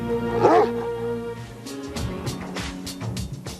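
Dogs bark and whimper at a Georgian monastery, with one sharp yelping bark up close followed by scattered yips and barks under a low rumble of vehicle noise.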